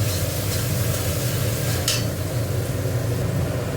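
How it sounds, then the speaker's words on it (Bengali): Garlic sizzles and fries in a pan with a constant crackling hiss while it is stirred, with one brief scrape partway through. "রসুনটা একটু ভেজে নিচ্ছি, নিয়ে তারপরে আদাটা দেবো।"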